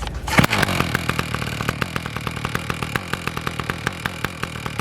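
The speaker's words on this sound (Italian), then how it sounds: "andare con questa accensione a strappo a tirarla e a mettere in moto il motore" A Husqvarna 253RJ brush cutter's two-stroke engine catches after a pull-start cord yank, then idles with a rapid, even, rattly putter up close.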